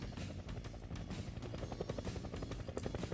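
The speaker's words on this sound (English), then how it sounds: "Oh, a helicopter?" Helicopter in the Team Fortress 2 game, a steady rotor drone with pulsing low thumps running continuously under game music and effects at moderate loudness.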